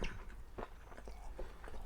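Biting and chewing on a chicken leg from chicken biryani, soft close-up mouth sounds with a few moist crunches over nearly two seconds and no speech.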